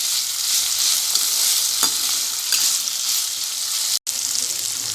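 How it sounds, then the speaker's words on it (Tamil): Okra and tomatoes sauté in a pan for a tamarind curry, giving a loud, steady frying hiss with light stirring scrapes and a momentary cut near the end, with almost no talking. "அப்படியே ஒரு 1 மினிட் வந்து கொஞ்சம் தக்காளி வதங்கட்டும், அதை நல்லா வதக்கி வச்சிடலாம்"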